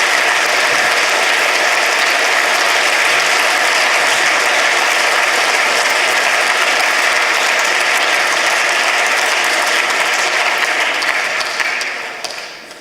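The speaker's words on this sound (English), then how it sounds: "Let's give her a round of applause, though." Loud, dense applause from a large audience at a science prize ceremony rolls on steadily for several seconds and then fades out at the end.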